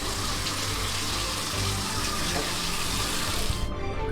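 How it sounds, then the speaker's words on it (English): Tap water runs steadily into a stoppered sink, a continuous close rushing wash that holds for about three and a half seconds, then cuts off abruptly. "I go over here to the sink. I put this stopper in it, so I start building up water."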